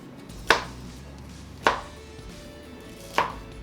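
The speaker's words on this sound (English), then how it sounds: "With the florets, if there's any large pieces, I'll cut them in half or in quarters" Three crisp knife chops through broccolini stems and florets on a cutting board, each a sharp close thud about a second apart, with a quiet room between them.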